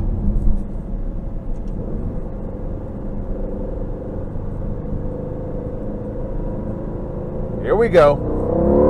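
A 2020 Aston Martin V8 Vantage heard from inside the cabin on a test drive, its engine a steady low rumble that builds toward the end, with a brief spoken remark and a whoop near the close.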